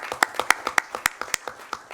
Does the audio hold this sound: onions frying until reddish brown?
no